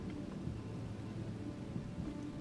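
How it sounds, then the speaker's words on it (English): Thunder from a lightning strike in the video game Voyagers of Nera: a steady, dense low rumble with a hiss like falling rain that holds at an even level throughout, with no voices. "Lightning bolt."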